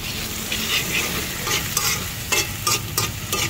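Garlic and onion fry in hot oil in a pan, the start of a dish of dried fish with tomato; a loud, close, continuous sizzle with several sharp stirring scrapes toward the end, no speech.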